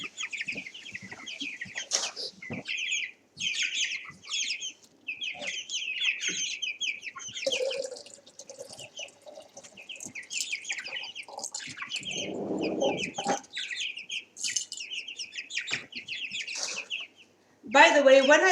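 Young chickens cluck, peep and chirp steadily in a brooder at close range, with a few louder squawks toward the end and some low rustling between calls.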